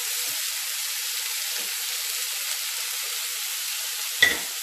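Seasoned minced meat sizzling steadily in a pan for a lasagne bolognese, a continuous close frying hiss with faint scraping from stirring and one brief louder clatter near the end.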